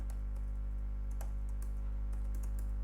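Soft keystrokes on a computer keyboard come in short irregular bursts as a command is typed, faint clicks over a constant low electrical hum, with no voices.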